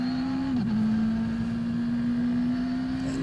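Radical race car engine held at full throttle around Mallala circuit, giving a steady, loud, sustained drone with only a brief dip in pitch, heard from inside the car.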